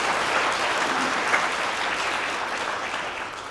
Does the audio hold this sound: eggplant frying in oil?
no